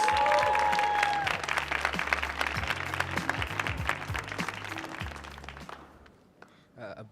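Applause for a youth poet on a theater stage rolls on loudly, then thins and fades out toward the end, leaving near quiet with a few stray claps and soft thumps.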